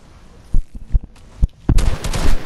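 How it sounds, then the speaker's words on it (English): Fortnite gunfire sounds as a few separate sharp cracks, then a denser, louder burst of shots toward the end, fairly close and with no voices over it. "Stop shooting."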